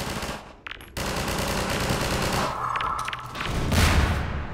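Automatic gunfire rattles in rapid sustained bursts during a firefight in Half-Life 2: Episode One, loud and close, with a brief gap and some heavier thumps, no voices.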